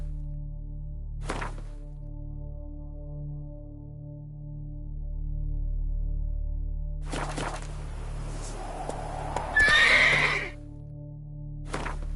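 Roach, Geralt's horse in The Witcher game, gives a single clear whinny near the end, after a couple of hollow hoof knocks over a low, steady ambient hum.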